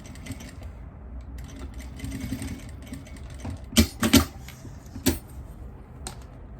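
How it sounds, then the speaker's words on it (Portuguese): A sewing machine runs steadily, stitching the first seam of a heart-shaped fabric jewelry box. Its mechanical hum is followed by a few sharp clicks and knocks near the end. "E aí eu vou fazer essa costura aqui primeira, só para prender essa primeira parte aqui"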